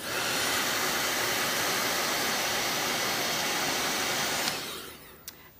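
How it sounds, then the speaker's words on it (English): A blow dryer runs loud and steady as it heats mascara and an eyelash curler, its hissing airflow cutting off abruptly near the end with a faint click. "And then I heated up my mascara with my blow dryer."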